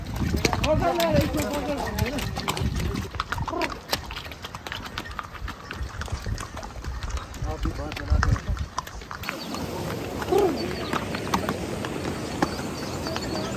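A pony's hooves clop along a rough mountain path on the road to Gulmarg, giving an uneven rhythm of knocks under people talking throughout.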